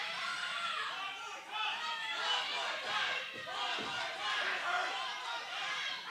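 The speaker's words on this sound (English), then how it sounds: "Crowd chanting one more time." Wrestling crowd at an EPW Saturday Night Battle Ground show, a dense roar of voices chanting and shouting in waves, steady and fairly loud from start to finish.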